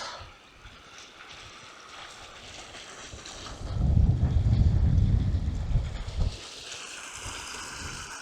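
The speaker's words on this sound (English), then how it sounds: "babbling brook." Water runs in a babbling brook on a Lake District fellside walk near Rannerdale Knotts and Crummock Water, a soft steady rush that swells for a few seconds as it nears, with wind buffeting the microphone.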